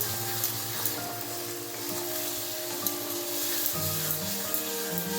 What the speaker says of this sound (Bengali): এবার এইভাবে মশলাটা কষায়